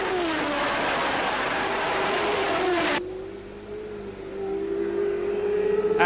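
Formula One race cars at the 1981 Canadian Grand Prix scream past with loud, high engine whine, one car's note cutting off abruptly midway as another sustained engine tone rises and carries on.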